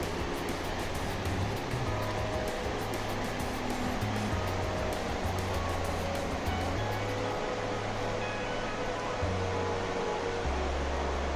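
A small waterfall rushes steadily in the background, a constant broad wash of falling water with a low hum underneath, unchanging for the whole stretch.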